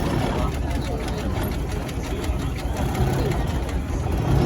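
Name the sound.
Fowler steam road locomotive engine running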